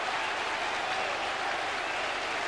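Football crowd at a 1993 Millwall versus Brentford match applauding a Millwall goal: a steady, distant wash of clapping and cheering filling the whole clip at a moderate level.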